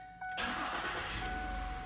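A 2008 Ford Edge fires up after a PCM repair, with a brief starter crank that catches into a loud, steady idle close by.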